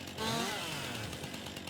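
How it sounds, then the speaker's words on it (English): A chainsaw in Farming Simulator 19 cuts up leftover log bits and stumps, giving a short, fairly quiet buzzing whine that holds steady for under two seconds. "We'll just quickly get rid of those with a chainsaw"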